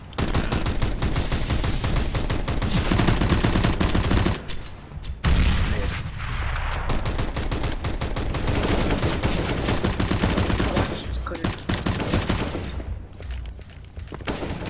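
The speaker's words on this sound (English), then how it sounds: "Dude, I just sniped someone right there." Rapid, dense gunfire rattles almost continuously through a round of the video game CS:GO, including sniper rifle shots, with brief pauses and a few heavy booms.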